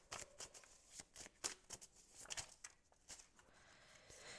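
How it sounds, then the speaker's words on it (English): Tarot cards are shuffled close by in a quick, soft, papery riffling with irregular flutters and taps, faint and steady with no voices. "Let's shuffle these again."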